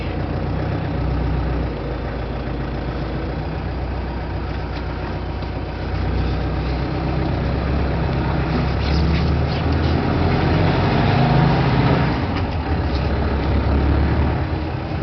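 A Roxor utility vehicle's engine idles with a low, steady rumble, then swells briefly when a little throttle is applied, close and loud for the whole stretch.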